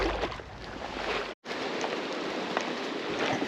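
Rain pattering steadily on surfaces beside a small river where grayling are caught, a dense, continuous hiss of drops close by with a brief dropout partway through.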